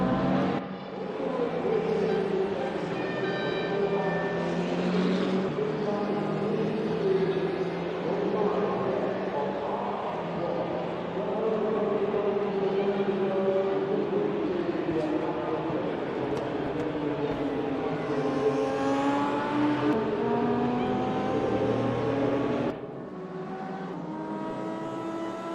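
A Lotus race car engine drones steadily through the Dubai Club circuit in a sim racing game, its pitch rising and falling through gear changes and corners, loud and continuous before cutting off near the end.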